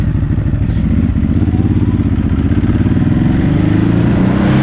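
Ducati Hypermotard 939 motorcycle engine pulling hard uphill, a loud, steady throbbing exhaust note that rises gradually as it accelerates, close and continuous without speech.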